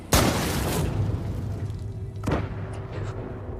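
A military sniper rifle fires in a film scene with a sharp, loud boom, then a second, quieter shot follows about two seconds later over a low rumbling background.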